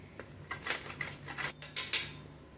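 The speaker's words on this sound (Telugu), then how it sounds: "దీంతో ఈ కొబ్బరి చిప్పని ఇలాగా తురుముకుందాం." A half coconut shell scraped by hand against a metal grater produces quick, rhythmic rasping strokes, about eight short scrapes in under three seconds, close and fairly quiet.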